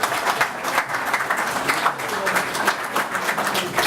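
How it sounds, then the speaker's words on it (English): An audience at a government funding announcement in Gisborne gives a round of applause, a continuous dense patter of many hands clapping at moderate loudness. "Oh, a little round of applause for that one,"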